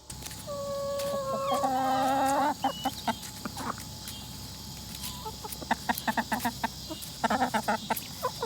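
Several chickens cluck and squawk close by, with loud drawn-out calls at first, then scattered short clucks and rustling.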